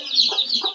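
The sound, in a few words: chicken clucking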